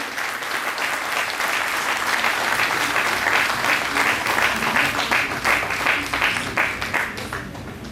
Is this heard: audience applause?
yes